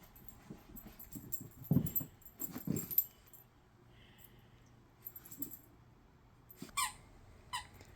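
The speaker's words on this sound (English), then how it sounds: "She's discovered that they squeak." A dog chews and plays with squeaky eyeball toys indoors, giving scattered high squeaks and soft rattles between quiet stretches, all fairly faint and with no talk.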